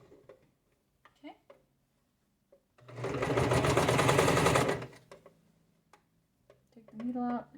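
A sewing machine backstitches over elastic in one loud, rapid burst of stitching lasting about two seconds, with scattered quiet handling noises and brief voices before and after.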